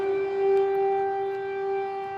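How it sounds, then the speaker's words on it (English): An air raid siren wails in Ukraine during the war: a steady, sustained tone with strong harmonics and a slight swell in loudness, heard at a distance with no speech. "air raid sirens sounded"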